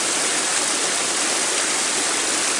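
Water and gravel sluicing across a gold pan during panning, a steady loud rushing wash with no pauses, close up.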